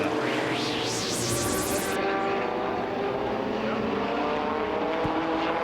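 Race trucks roar around Lee USA Speedway, a loud, continuous engine drone with a rising and falling whine early on, steady and unbroken, with no voices over it.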